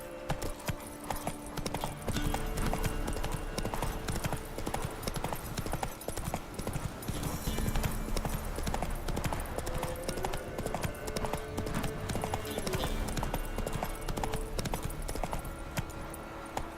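Roach, Geralt's horse in The Witcher 3: Wild Hunt, gallops in a steady stream of hoofbeats heard close up, mixed with a busy game soundtrack and ambience, with occasional voices talking.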